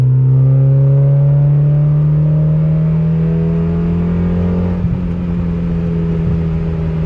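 A Mazda Miata with a Manzo catback exhaust drones steadily at constant revs in third gear with a strong low hum, a few faint pops and crackles near the end, no talking.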